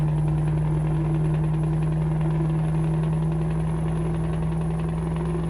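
Scania S730 V8 truck engine fitted with an exhaust mod in Euro Truck Simulator 2, a steady, loud, low droning rumble that holds constant throughout with no talking.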